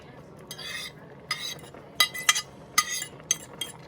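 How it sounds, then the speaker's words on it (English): Mushrooms and peppers stirred in a pan: bursts of scraping and clinking utensil strokes against metal come in uneven clusters, close and fairly crisp, over a faint sizzle, with no talking. "give it a good old stir"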